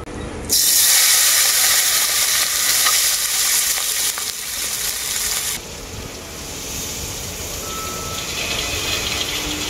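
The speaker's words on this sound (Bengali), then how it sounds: "তেলের মধ্যে এরপর মাখিয়ে রাখা মাছটা দিয়ে দেব।" Small mourala fish drop into hot mustard oil in a kadai, setting off a sudden loud, hissing sizzle that later settles into a steadier, quieter frying hiss.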